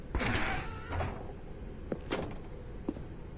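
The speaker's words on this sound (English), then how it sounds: "Stanley walked through the red door." A door opens in The Stanley Parable video game, with a low thunk followed by several short mechanical knocks and clacks spread across a few seconds over a steady background hum, and no voices.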